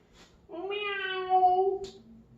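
A pet cat gives a single drawn-out meow lasting over a second, loud and close, with a slight rise in the middle, inside a home while a cat play structure is being built.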